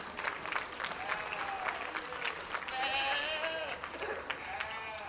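An audience claps at a school livestock show of sheep and goats, with sheep or goats bleating clearly through the applause and a voice faintly in the background.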